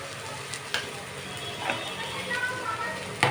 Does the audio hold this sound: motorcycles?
no